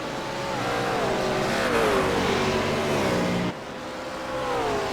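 Race cars, a McLaren MP4 and a BMW among them, running down the long back straight at Circuit Gilles Villeneuve in a Blancpain Sprint Series race, loud engines droning and rising in pitch, one note dropping briefly before another climbs.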